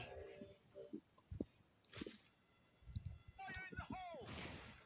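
Gunfire in the mobile shooter Bullet Angel, several sharp shots scattered among game sounds and electronic tones, with someone talking at times.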